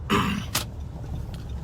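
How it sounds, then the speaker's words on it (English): A single harsh cough or throat-clearing bursts out up close, followed by a short second rasp, then quiet background rumble. The cough is caused by volcanic ash on a road in Chateaubelair. "that cough, believe me, is all because of the ashes"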